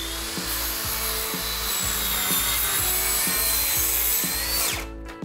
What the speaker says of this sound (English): I cut the shelf boards to the correct lengths.